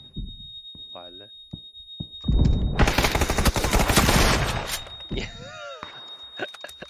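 Gunfire in a shooting video game, a dense burst of rapid automatic shots in the middle with scattered single shots and game sound effects around it, while a player talks excitedly over it.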